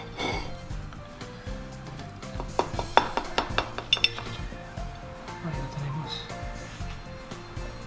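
Dishes and cutlery clink while a goat cheese quiche is being plated, with a cluster of sharp, bright ringing taps in the middle and softer scrapes and handling sounds around them, close and clear.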